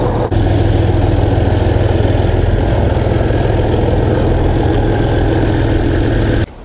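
Audi A6 C6 engine idling, a steady, even mid-low hum held close and loud for several seconds, cutting off abruptly at the end with no talk.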